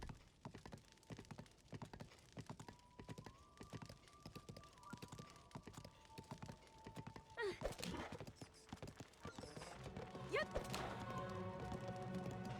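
Steady clip-clop of horse hooves with a whinny, game sounds and music layered around it in a Zelda: Breath of the Wild survival playthrough, growing busier and louder toward the end.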